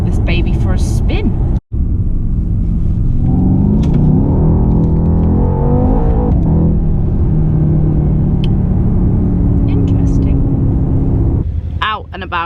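A Mercedes-AMG C63 S is driven through traffic, its engine a loud, steady low rumble with brief swells of revving, heard from inside the car.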